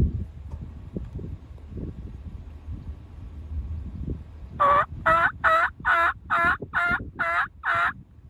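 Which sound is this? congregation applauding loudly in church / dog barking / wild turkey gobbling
wild turkey gobbling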